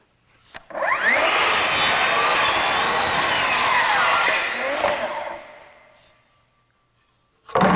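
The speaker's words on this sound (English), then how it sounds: "I have the saw set to the proper depth, and it makes a small kerf in my crosscut jig." A power saw spins up and cuts through wood in a crosscut jig, a loud sustained whining cut of about four seconds that winds down as the blade coasts to a stop, followed by a brief clunk.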